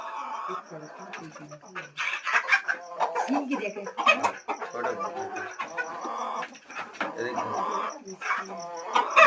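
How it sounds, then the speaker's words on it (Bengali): Chickens of many kinds cluck and squawk on a small poultry farm, a dense, overlapping flock chorus that runs steadily throughout with sharper calls rising now and then. "সব রকমের মুরগি আমার এই খামারে আছে"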